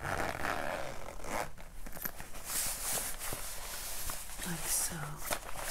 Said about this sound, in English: It has a nice zipper to help hold things in there.